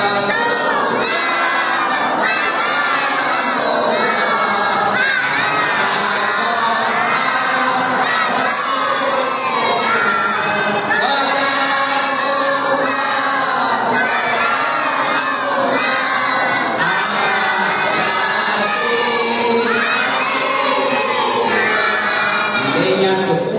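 A large congregation of men in a mosque shout loudly together when asked. The roar of many voices is sustained and intense, full of whoops and cheers, and keeps up across the whole stretch.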